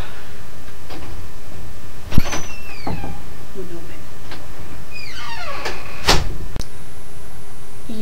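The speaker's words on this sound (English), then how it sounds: "the door would not open for some reason" Someone struggles to open an unlocked door, producing several sharp clunks, handle rattles and squeaky scrapes spread unevenly over a few seconds, with brief vocal sounds in between.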